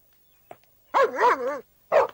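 Dogs shut in a back room bark close by with no talk over them: a short yip, then a long, wavering, howl-like bark, and one more sharp bark after a pause.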